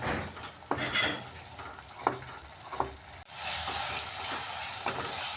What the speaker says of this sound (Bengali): দই দিয়ে মশলাটাকে খুব সুন্দরভাবে কষিয়ে নিয়েছি মশলা থেকে তেল ছেড়ে ছেড়ে আসছে